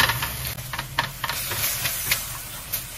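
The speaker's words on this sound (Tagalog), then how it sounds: "Ilalagay ko na yung ham. Yung ginamit ko dito, sweet ham. So, gigisa ko lang din po ito mabuti." Sweet ham sautéing in a pan, with a steady close hiss and a few light stirring taps over a constant background hum, no talk.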